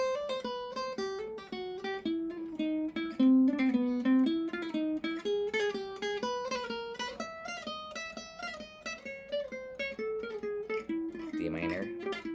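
A solo jazz guitar plays a flowing melodic line with slurred, sliding Django-style ornaments between notes, moderately quiet and close, with no talking.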